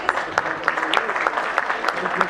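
Scattered clapping at a corporate summit ceremony, a modest number of individual claps ringing out in an uneven rhythm over a murmuring room, brief and fairly close.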